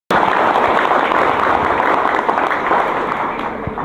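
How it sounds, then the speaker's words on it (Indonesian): Crowd applause for the party chairman at a Tani Merdeka rally in Wonosobo, a dense, steady wash of clapping that starts abruptly and stays loud throughout. "Tepuk tangan buat Bapak Don Muzakir"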